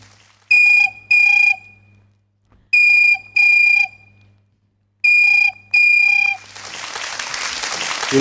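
A voice imitates an old landline telephone ringing: three pairs of sharp, buzzing rings, each pair followed by a pause, loud and close, before a burst of noisy hiss at the end.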